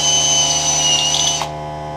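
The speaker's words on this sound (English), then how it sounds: "Take my cordless drill with this chamfer tool. Just knock a little chamfer in it." Cordless drill spinning a chamfer tool against a metal part, a loud steady whine with a high ringing edge that drops off sharply as cutting stops, the motor hum continuing.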